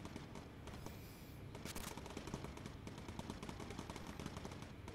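Rapid machine gun fire in the World War II bomber video game Bomber Crew rattles in dense, continuous bursts, fairly faint and steady throughout with a few sharper cracks.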